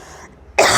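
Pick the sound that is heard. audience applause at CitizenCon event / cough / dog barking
cough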